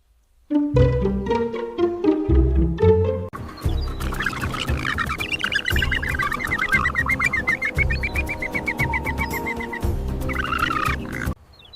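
Loud, rapid chattering oxpecker bird calls, harsh repeated chirps in dense bursts, close by and sustained for several seconds.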